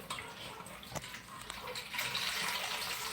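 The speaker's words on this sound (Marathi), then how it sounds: "हे बघा पाणी आलं" Water gushes steadily from a tap, a continuous splashing rush that grows slightly louder toward the end, with no voices.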